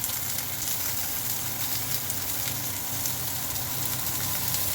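Steady close sizzle of whole coriander stems stir-fried in a wok alongside onion, carrot and scallion, a dense crackling hiss running continuously with faint low rumbles, no voices.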